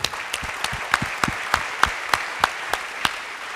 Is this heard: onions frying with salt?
no